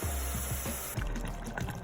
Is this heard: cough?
no